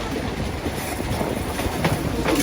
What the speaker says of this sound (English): There's a Ilkeston train coming out.